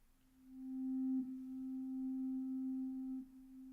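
A steady, clean synthesizer tone from a modular synth with reverb holds for several seconds, swelling in and then softly fading, with a faint overtone above it.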